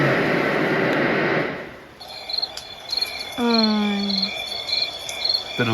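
Insects chirp steadily from a speaker playing recorded nature sounds at a high campsite, first with a broadband wash like wind or waves, then fine high trills with a few bird-like tones sweeping down, fairly close and loud, no talking.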